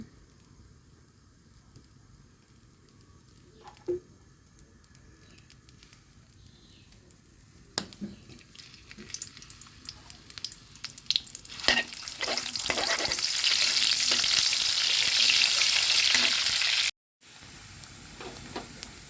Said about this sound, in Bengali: এখন আমি করলা ভাজি বাগার দেব